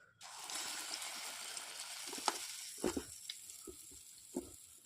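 Vadas of ground batter, shaped with a thumb-pressed hole, frying in hot oil, giving a steady close sizzle throughout with a few brief louder bursts and pops as pieces go in.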